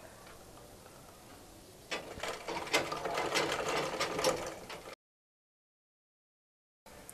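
A sewing machine runs along elastic on a baby girl's frock with a gathered waist, starting after a quieter stretch and whirring steadily for about three seconds before cutting off into silence, then resuming briefly.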